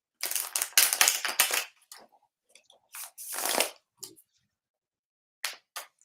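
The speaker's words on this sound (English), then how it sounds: "I'm still shuffling with my little bitty hands" Tarot cards being shuffled by hand, several quick bursts of riffling and slapping cards with short pauses between, close and fairly loud.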